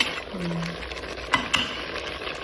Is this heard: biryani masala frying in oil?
yes